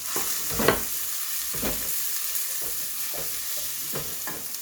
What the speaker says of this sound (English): We're frying the onion to bring out the flavor from the onion, get the onion juice.